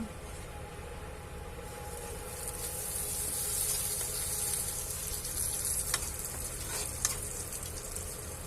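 Homemade hair oil steadily heating and bubbling in a pan, a continuous soft sizzle and crackle with a few sharper pops near the end.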